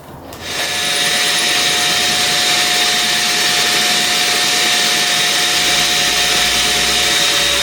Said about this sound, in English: just drilling really slowly through the tile so it doesn't crack